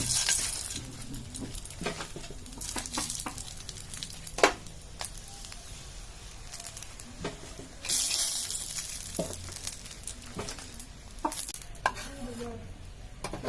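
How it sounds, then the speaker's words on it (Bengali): Dried red chillies frying in a little oil in a tawa, giving a soft sizzle broken by repeated stirring scrapes and clicks, close and fairly quiet, swelling into a louder burst of hissing partway through. "অল্প তেল দিতে হবে, শুকনো মরিচ ভাজবো তাই।"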